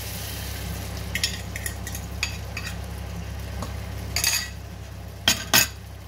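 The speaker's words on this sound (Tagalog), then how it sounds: "Dahan-dahan sa paghalo para hindi masisira." Corned beef and egg being gently stirred in a frying pan, with a soft steady sizzle beneath and a handful of scattered spatula scrapes and clinks against the pan, louder near the end.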